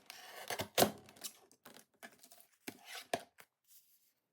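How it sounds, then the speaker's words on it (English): Scissors snip the stems off leaves in a sequence of sharp, close cuts and crisp paper-like crunches, irregularly spaced with short quiet gaps between them. "I'm going to first of all cut off the bottom here with all these stems"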